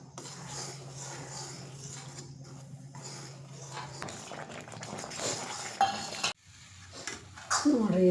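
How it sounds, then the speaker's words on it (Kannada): Semolina (rava) is poured and stirred in a pan for upma, with a spoon scraping and clinking against the metal in an uneven rhythm and soft sizzling underneath. "ರವೆ ಹಾಕಿ ಉಪ್ಪಿಟ್ಟು ಮಾಡ್ತೀನಿ ನೋಡ್ರಿ"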